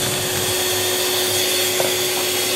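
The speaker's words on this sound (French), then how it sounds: "vous continuez à battre jusqu'à ce que la chantilly soit complètement faite" An electric mixer whirs steadily and loudly as it beats cream with sugar into chantilly, a continuous close drone with a faint whine and no talking.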